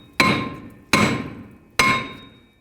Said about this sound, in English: My rotor is pretty stuck on here, so I'm going to use a hammer right in between the studs